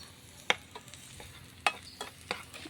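Onions with ginger and garlic frying in hot oil, a steady close sizzle broken by a few sharp clicks of a spoon stirring against the pan.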